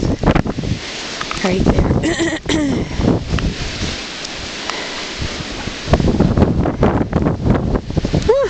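Strong wind blasts across a snowy barnyard beside a machine shed, roaring and buffeting the microphone throughout in loud, uneven gusts, with a person speaking briefly in the middle.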